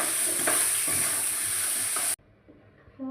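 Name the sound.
potatoes and tomato sautéing in a pan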